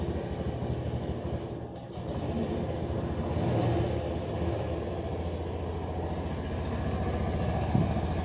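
Honda Scoopy Prestige scooter engine running at idle after being started, a faint, steady low hum that continues evenly with slight swells and no speech.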